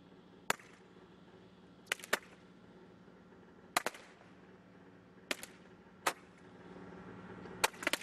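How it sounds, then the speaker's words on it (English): Illegal fireworks go off during a live outdoor demonstration, a series of sharp crackling pops and bangs, some single and some in quick pairs, spaced irregularly against a low background hum. "going to do a live demo to show us what can happen when you use these illegal fireworks"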